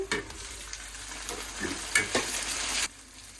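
Onion, green chili and tomato sizzle in a hot pan while being stirred, a steady fry with scraping strokes that stops abruptly near the end.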